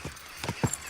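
A horse's hooves strike in a quick irregular clip-clop in Kingdom Come Deliverance 2, a few close thuds under faint background ambience.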